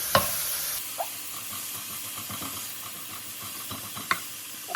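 Cauliflower rice fries in a hot pan with a soft, steady sizzle and hiss, broken by a few spatula taps and scrapes as the clump is broken apart and stirred.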